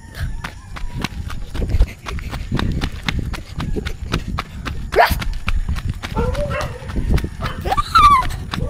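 Quick, rhythmic footsteps patter along as a dog makes noises nearby, with people talking over them.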